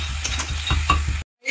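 Half a kilo of chicken and onions for chicken curry sizzle loudly in a pan, with close stirring scrapes and soft clinks, before the sound cuts out abruptly.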